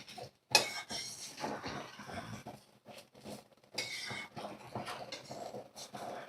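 A spoon works through egg biryani in a pot, making soft, uneven scraping and a few light metallic clinks. The sound is quiet and close, with one sharper knock near the start.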